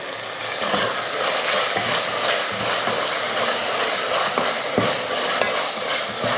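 A small tomato being sautéed with onions in a pan for a goat head curry gravy, with a loud, dense sizzle and constant scraping of a spatula stirring right up close.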